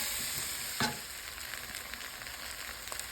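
Mirepoix sautés in olive oil in a soup pot, giving a continuous crackling sizzle with a brief stir or clink near the start, steady and fairly quiet with no voices.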